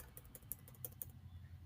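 Down arrow key pressed repeatedly on a computer keyboard while working in CorelDRAW, giving a quiet run of soft, irregular clicks spread over a low background hum.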